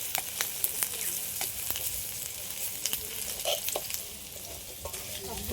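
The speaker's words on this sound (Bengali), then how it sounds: "একটু তেল দিয়েছি ওর মধ্যে দিয়ে দিচ্ছি পাঁচফোড়ন অল্প করে একটা তেজপাতা কেটে দিয়ে দিলাম" Bengali five-spice and a bay leaf sizzle in hot oil in the middle of a pan, a steady frying hiss broken by sharp crackles and pops, close and fairly loud with no talk.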